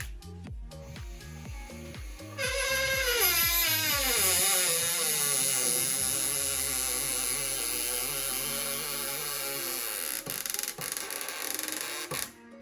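A Milwaukee M4 D-202B cordless screwdriver whirs up to speed with a rising motor whine, then holds a steady high buzz for several seconds before cutting off near the end.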